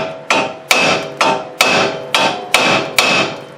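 A hammer strikes a Dodge Dakota's steering knuckle where the tie rod passes through to pop it loose, seven sharp metallic blows in an even, steady rhythm, each ringing briefly, close and loud with no talk.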